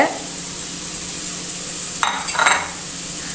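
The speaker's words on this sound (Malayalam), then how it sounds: "ചെറിയ ഉള്ളിയാണ് നമ്മളിതിന് അധികം ഉപയോഗിക്കുന്നത് ഇത് നല്ലോണം ഒന്ന് വഴറ്റിയെടുക്കാം നമുക്ക്" Small shallots and chopped onion sauté in oil in a pan, a steady close sizzle broken by two brief bursts of stirring with a spoon scraping the pan, no voices.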